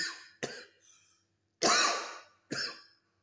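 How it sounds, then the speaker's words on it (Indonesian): Several harsh coughs close up, two short ones, then a longer rasping cough and a final sharp one, with quiet pauses between. "Malah saya ketularan batuknya."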